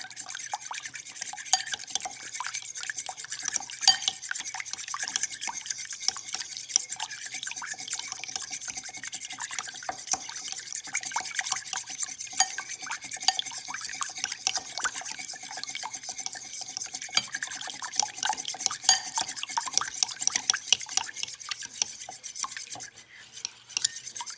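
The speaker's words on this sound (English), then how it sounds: "add 1 yolk to this mixture. Place the white on the side. And let me mix this up." Egg yolk being stirred into a keto lemon bar mixture in a bowl, a steady run of close, rapid wet scraping and clicking from the utensil against the bowl, continuing without a break and with no talking.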